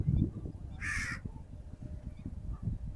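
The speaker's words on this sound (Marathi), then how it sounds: "पाखरं पण आहे तिथे" A crow caws once, loud and close, at a riverside temple on the Chandrabhaga at Pandharpur, over a steady low outdoor murmur.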